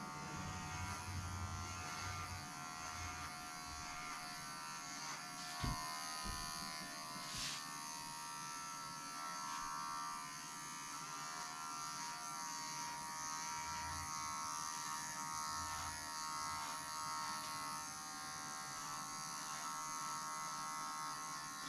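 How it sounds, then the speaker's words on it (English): Electric clippers buzz steadily while shaving a dog's ears during a spring maintenance groom, a constant close hum that continues for the whole stretch with only slight dips and no talk. "So we're just shaving his ears, getting a nice little, just a maintenance today."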